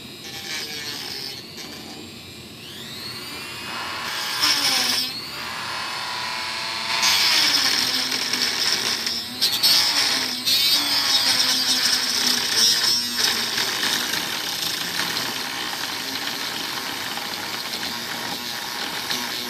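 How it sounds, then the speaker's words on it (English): Dremel-style rotary tool with a cutting disc cutting a channel, a high, steady whine that dips and climbs as the disc bites, close and continuous with small pauses. "I'm just going to use just your plain Jane, you know, like run-of-the-mill Dremel tool style cutting disc tool"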